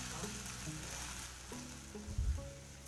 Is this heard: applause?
no